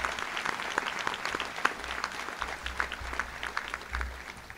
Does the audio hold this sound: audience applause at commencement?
yes